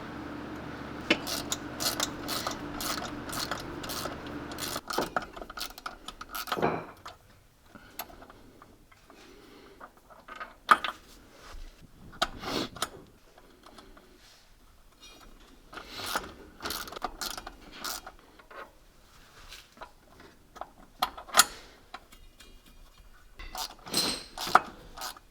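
Nut being run down by hand onto the clutch weights of a Polaris Ranger, with a rapid ratcheting and clicking sequence of metallic ticks in repeated bursts. Steady mechanical background noise opens the sequence, then fades.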